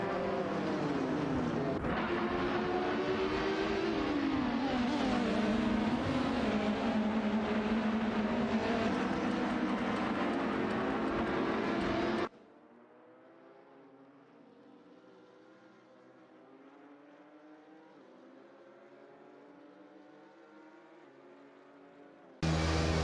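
Loud, rising and falling engine whines from race cars in a racing video game dominate for about twelve seconds, then cut to a much fainter, distant engine drone before the loud sound briefly returns at the very end.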